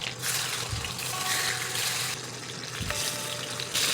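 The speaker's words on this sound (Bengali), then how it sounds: "এবারে এই তেলেই আমি মাছের মাথাগুলো ভেজে নিচ্ছি" Fish heads fry in a pan of hot oil, giving a close, steady, crackling sizzle with brief surges and no voices.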